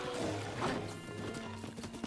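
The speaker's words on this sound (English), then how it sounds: "he can just hop on one of these horses" Horse hooves in The Legend of Zelda: Breath of the Wild during a bingo race match: quick clip-clop hoofbeats set against busy game sound, moderately loud and continuous, with no voices.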